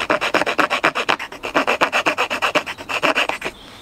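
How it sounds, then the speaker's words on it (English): Rhythmic rasping strokes of a multi-use bushcraft striker's saw edge cutting a V notch into wood, about two dozen quick back-and-forth rasps, close and loud, with no voices. "I'm using the saw side of this just to get in there and cut the V in."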